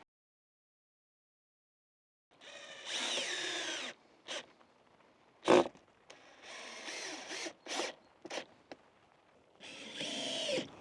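Cordless power drill driving screws to fit hinges onto a raised-bed hoop house frame, in several short whirring bursts with pauses and a sharp knock between them, close and loud, no talking.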